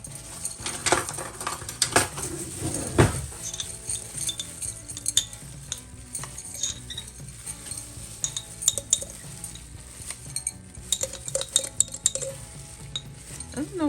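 A metal spoon clinks and scrapes against a container while scooping seasoning for Caribbean jerk chicken, with several sharp clinks early on followed by softer intermittent taps and rustles, close and moderately loud.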